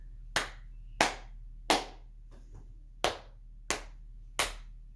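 Seven sharp, evenly spaced hand claps from a music lesson rehearsing a trombone part, each crisp and close with a short decay and a faint hum between them.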